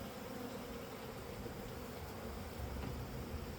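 Honeybees from a package installation into a hive drone in a continuous low buzz, faint and steady throughout with no voices.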